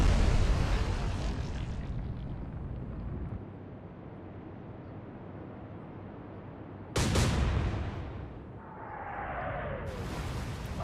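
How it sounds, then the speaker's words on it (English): A warship explodes under artillery fire in the naval game Atlantic Fleet: a roaring blast decays into a long rumble, then a second sharp explosion hits, followed by a falling whistle and more booming. "Ah, she's slightly exploding."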